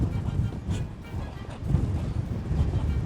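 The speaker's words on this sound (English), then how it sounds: "it's so windy, but I love it" Low, rumbling wind buffets the microphone in uneven gusts, a steady blustery roar filling the whole stretch, outdoors on Mykonos island.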